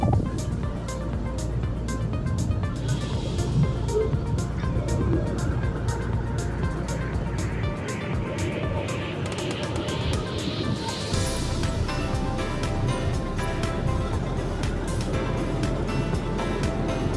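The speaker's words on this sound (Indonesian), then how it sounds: "Angin kena ke badan, suara mesin jadi satu-satunya suara yang dominan." Motorcycle ridden at midday through city streets in Malang, its engine droning steadily with broad wind rush throughout, loud and continuous with no talk.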